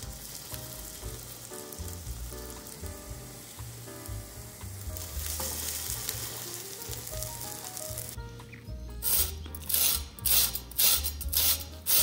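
Egg-dipped toast frying in a pan, a steady close sizzle with occasional scraping and stirring, growing into louder crackling bursts toward the end.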